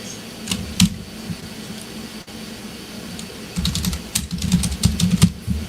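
Typing on a computer keyboard nearby, with scattered key clicks at first and then a quicker, denser run of tapping over a low background hum.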